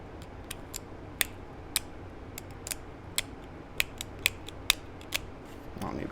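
Sharp snips and crisp cuts come at irregular intervals as material is trimmed from a flintknapping kit, each click close and distinct over a quiet room background.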